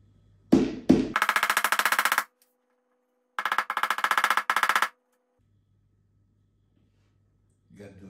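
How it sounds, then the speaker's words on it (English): A hammer pounds a plastic piece into a closet frame in an apartment in Avsallar, Turkey, with two long bursts of rapid, loud, close knocking separated by a pause. A brief voice is heard at the start and end. "This is plastic, we're gonna push it in here with a hammer."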